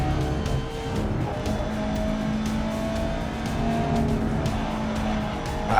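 A racing car sliding and skidding through a corner in the racing video game Grid Legends, engine droning steadily with faint tire squeal, close and continuous throughout with no talking.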